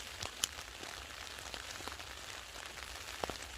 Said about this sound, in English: Now I can finally say tent camping in the rain.